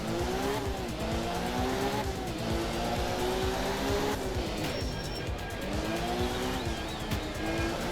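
Rally car in the game Art of Rally, a loud engine revving and shifting pitch throughout as the tires squeal and skid, continuous and close, with a voice talking faintly underneath.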